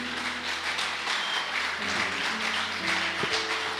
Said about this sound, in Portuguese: Aplauda ao Senhor por isso.